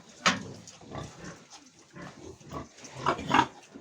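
Young pigs grunting and snuffling close by on a farm, a series of short, irregular grunts with one sharper squeal-like grunt near the start.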